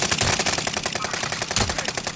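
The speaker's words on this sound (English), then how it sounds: "There's people shooting over here." Rapid automatic gunfire in Call of Duty Warzone on the Caldera map, a fast rhythmic burst of shots repeating steadily throughout, loud and close with a sharp crack on each round.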